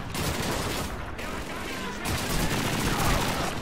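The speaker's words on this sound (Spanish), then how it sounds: "Es una MG-42." German MG-42 machine gun fire in Call of Duty 2, a dense continuous rattle of rapid shots at moderate distance, steady throughout, with faint game voices shouting underneath.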